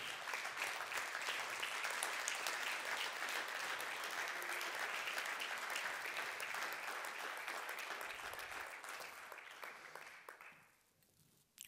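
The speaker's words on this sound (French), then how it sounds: "Voilà, on peut l'applaudir." Sustained audience applause for a person called to the stage at a French ceremony, steady dense clapping for about ten seconds before fading out near the end.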